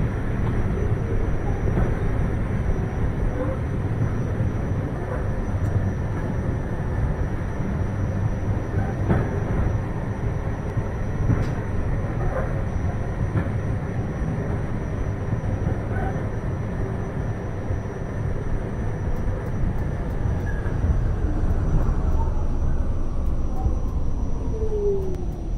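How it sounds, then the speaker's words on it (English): A New York subway R46 train on the Q express, in the OpenBVE train simulator, runs steadily with a continuous low rumble and rattling wheels, holding loud and even throughout, with a faint high whine above. "This is a Brighton Beach bound Q express train."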